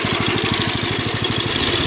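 A homemade shiftable go-kart engine runs steadily at a loud, close idle, its rapid, even firing pulses continuing without a break and with no one speaking.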